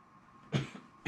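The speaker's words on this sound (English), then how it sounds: "Boy's coughing a lot." Two short, fairly loud coughs from a person, about half a second apart, in a quiet room with nothing else happening.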